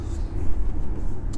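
A 2020 Audi e-tron electric car accelerating hard, heard from inside as a steady low drive hum and road rumble with a faint rising whine, fairly loud and continuous, no talk.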